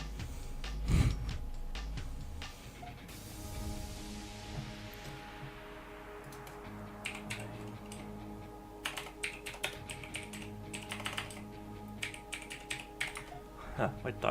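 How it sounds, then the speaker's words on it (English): Rapid clicking keystrokes on a computer keyboard come in bursts and pauses, close and crisp, alongside a sweeping game sound and low background noise while a person talks intermittently. "My English typing isn't really the best thing you can expect from me."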